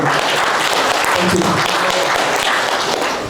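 An audience applauds a discussion panel at an HR conference session, a dense, steady wash of clapping that fills the whole stretch at close range.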